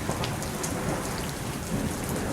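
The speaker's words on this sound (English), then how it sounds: "I now finally had somewhere to hide during the rain and the thunder and the cold night." Steady heavy rain pours down with rumbling thunder beneath it in a video game set during a cold night, a dense continuous wash with no voices.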